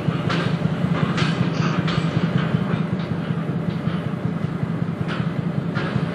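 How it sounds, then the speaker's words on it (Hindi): Steady rolling rumble and rhythmic wheel clatter of an express train pulling out of Khushipur station in the MSTS/Open Rails train simulator, loud and continuous with periodic sharp clacks. "हमारी ट्रेन खुशीपुर से खुल चुकी है अपने अगले सेशन की सफर तय करने के लिए"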